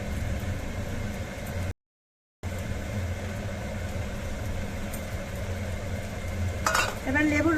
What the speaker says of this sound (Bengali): বাদাম দিয়ে দিয়েছি, ঘি দিয়েছি, তো একটু নেড়ে দিই।